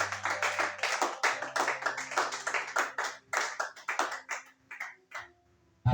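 A church congregation claps together to acclaim Jesus Christ, a brisk run of rhythmic, fairly close handclaps that slows and thins toward the end before stopping.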